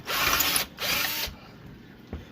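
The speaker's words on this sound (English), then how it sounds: "I'm going to use my drill and get through there" Electric drill boring through a microscope part, two close whirring bursts of about half a second each, followed by a brief click.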